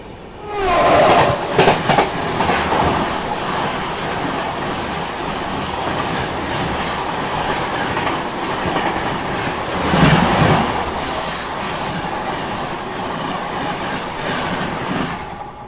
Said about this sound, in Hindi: अब सामने से आ रही है आनंद विहार से चलकर भागलपुर को जाने वाली विक्रमशिला एक्सप्रेस।